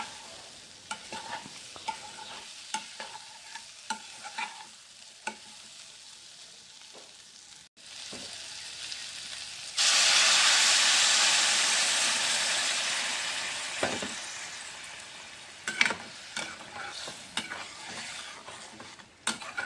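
Water goes into a pan of frying spiced urohi beans. Scattered stirring clinks and a light sizzle are followed by a sudden loud hissing burst of steam that slowly fades, and stirring clatter then returns.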